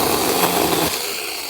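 A cordless 6-inch mini chainsaw cutting through a small sapling, a loud, close, continuous buzzing whine that eases slightly in pitch and strength near the end of the cut.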